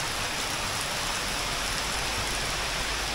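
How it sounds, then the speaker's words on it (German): Heavy rain pours down during a thunderstorm on a German hiking trail, a dense, loud, unbroken hiss of drops striking surfaces close by, with no thunder claps or voices. "Der Starkregen ist eingetroffen und wir haben uns hier hinter versteckt."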